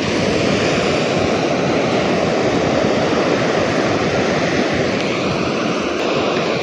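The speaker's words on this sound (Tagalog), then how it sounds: "Napakalaki talaga ng alon, no?" Large ocean waves roar continuously as a loud, steady wash of surf with no pauses.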